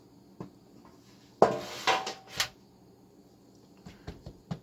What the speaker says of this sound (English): Well, we got a grease pan right here.